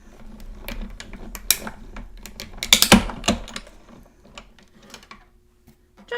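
Paper card is cut out by hand at close range, giving a run of crisp snipping and rustling sounds that cluster loudest in the middle and then thin out.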